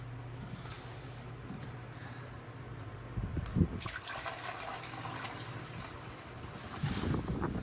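Water pours from a jug onto plants as a continuous soft splashing wash, with a few louder gushes partway through and near the end.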